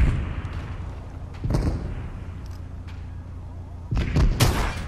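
Gunfire in Fortnite, with a few sharp, loud shots as separate bursts: one near the middle, then a tighter cluster near the end, over a low rumbling game background.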